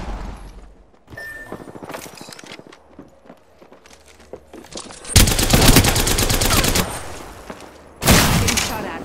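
Automatic gunfire in the video game Apex Legends: two loud, sustained bursts of rapid shots, each a few seconds long, follow quieter scattered clicks and steps.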